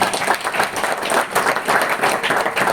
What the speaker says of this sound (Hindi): शाहीन के लिए तालियां होनी चाहिए